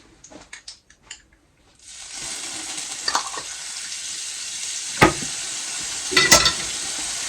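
Garlic hits hot olive oil for a Spanish tortilla after a couple of seconds of quiet clinks, then a steady loud sizzle carries on with a few scraping stirs and knocks.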